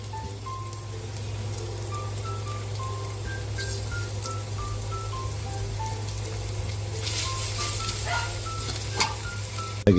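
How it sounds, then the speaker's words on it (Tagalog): Garlic sautéing in hot cooking oil for ginisang ampalaya, a steady, close sizzle and crackle like light rain, with faint tonal beeps and a brief knock at the end. "Magigisa na po tayo para sa ating ginisang ampalaya. Lagyan natin ng mantika."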